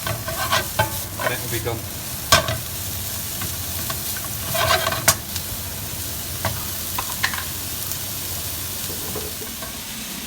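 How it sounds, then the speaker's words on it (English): Vegetables stir-fried over high heat for a stir fry, a steady close sizzle with scraping stirs and clatters throughout, with a brief spoken remark near the end. "just going to give that a good mix and just keep stirring it. 3 to 4 minutes on a high heat"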